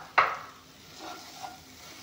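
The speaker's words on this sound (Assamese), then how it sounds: "এতিয়া অলপমান ভাজি ল'ম। যিহেতুকে জিৰা জালুকৰ গুড়াখিনি দি দিছোঁ" Frying with cumin and black pepper powder in a pan, a sharp clink of a spoon against metal followed by a soft, low sizzle and faint stirring.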